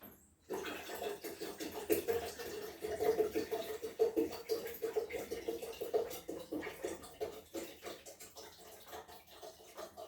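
Water pours steadily into a container for making mead, about two litres, a continuous close splashing gush that runs for nearly the whole stretch after a brief quiet start.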